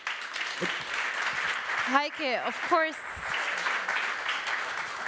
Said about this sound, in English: give a big applause to our team here who helped us and our partners